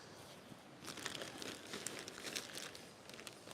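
Soil in a garden bed is shovelled over, giving a steady, faint rustling and crunching scrape with no voices.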